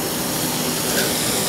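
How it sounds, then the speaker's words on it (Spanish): Lomo saltado, beef strips tossed in a hot pan, flares up in a loud, steady roaring hiss that holds without a break for over a second. "es muy importante que el lomo saltado se flambee"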